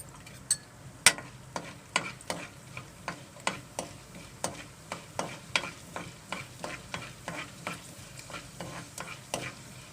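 Tempering spices crackle and pop in hot oil for a traditional tamarind-leaf dal, a steady stream of sharp, close clicks and spits over a low sizzle with no voices.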